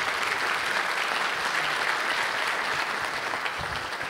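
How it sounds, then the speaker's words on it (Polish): Audience at a talk on television set design bursts into dense, sustained applause, a steady wash of many hands clapping at a constant level throughout with no voices heard. "Wielkie brawa, dziękujemy serdecznie."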